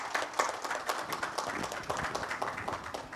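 An audience at a cultural exchange event claps to welcome a speaker, producing close, lively applause that lasts the whole short stretch.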